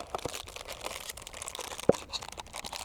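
Razer BlackWidow V3 Mini HyperSpeed gaming keyboard with Razer Green switches gives off a few sharp, clicky keystrokes at an irregular pace, fairly quiet and close, one snap standing out louder than the rest.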